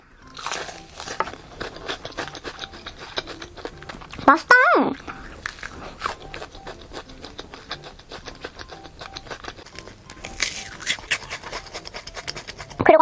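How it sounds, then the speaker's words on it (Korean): Crisp crunches come from bites into a sausage-filled bread coated in croutons, a few sharp close bites and chewing sounds mixed with a person talking. "이 겉에 지금 붙어있는 게 크루통이거든요? 근데 안 느끼하고 엄청 바삭바삭한데요?"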